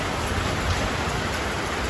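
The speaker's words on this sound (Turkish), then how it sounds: "Rüzgar, yağmur." Steady rain falls across a vegetable garden where potatoes, peppers and squash grow, a dense, even hiss of drops close by, with wind in it and no voices.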